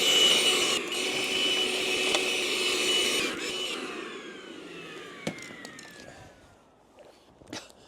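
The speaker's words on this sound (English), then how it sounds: "We better get the hoover in there and suck all that out." A hoover sucks debris out of a Peugeot 107 engine bay, a steady whooshing drone for about three seconds that then fades and thins out, followed by faint scattered clicks and rattles.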